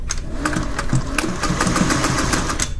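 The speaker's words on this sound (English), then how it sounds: "You're going to have your machine set up as a zigzag machine." A domestic sewing machine set to zigzag stitch runs steadily while darning worn trousers, a continuous close mechanical chatter with a fast rhythmic needle pulse and no talk.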